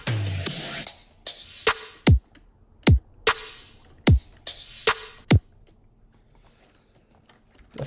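Drop drums from a hybrid trap song made in Ableton: booming 808-style kicks with falling pitch punctuate sharp snare and clap hits in a sparse, punchy pattern. They are loud and close, then trail off into quiet ticks.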